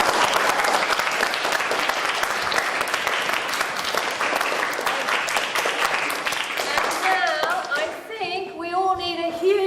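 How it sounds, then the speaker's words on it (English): An audience claps hard in a sustained burst of many hands, a dense rapid patter that runs for most of the stretch before breaking off near the end as voices start speaking. "We're going to do a big clap for all of you for all your wonderful questions."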